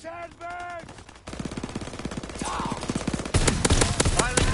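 Rapid bursts of automatic gunfire and explosions in the World War II shooter Call of Duty WWII, loud and close, intensifying toward the end, with a game radio voice speaking over the start.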